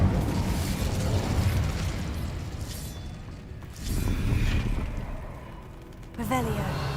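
Incendio fire spell cast in Hogwarts Legacy, a rumbling fiery burst that swells and roars, fades, then erupts again in a second blast, followed by a brief sparkling magical chime near the end.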